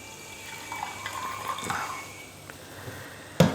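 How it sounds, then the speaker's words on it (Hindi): Water is poured into a glass while making lemon soda, a soft, close trickle and splash that rises briefly mid-pour and ends with a sharp clink. "बस इतना पानी डाल दें,"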